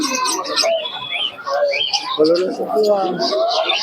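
Pigeons cooing at a busy pigeon market in West Bengal, several birds giving overlapping throaty coos and calls, close and loud, with some chirps mixed in.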